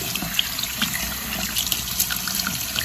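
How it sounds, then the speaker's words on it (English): A bathroom sink tap runs steadily while items are rinsed under it, a close, even hiss of water with small splashes and clinks, at low level and with no voices. "And then I just take and rinse these off in the sink like this"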